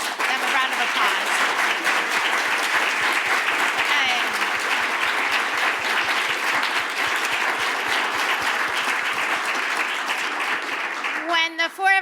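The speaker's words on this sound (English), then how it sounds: "if we can give them a round of applause" Sustained audience applause at a summit panel session, dense steady clapping filling the room for the whole stretch, loud and continuous, with a brief rise of voices near the end.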